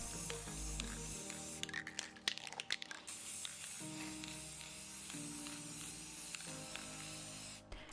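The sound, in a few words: spray paint can spraying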